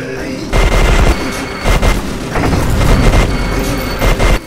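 Sustained minigun fire in the shooter game E.Y.E. Divine Cybermancy: loud, dense bursts of rapid shots with heavy low booms, several long volleys broken by brief gaps, no talk over it.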